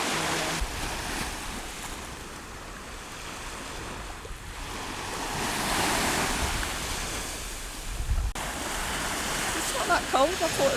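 Atlantic sea waves break and wash on a beach at Caleta de Fuste, a loud steady surf roar that swells and recedes, with wind rumbling across the microphone.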